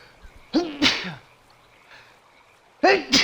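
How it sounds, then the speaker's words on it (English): A person sneezes twice in a row, close and clear, each with a sharp intake of breath, then a third sneeze begins after a quiet pause with some breathing. "Oh, I gotta sneeze."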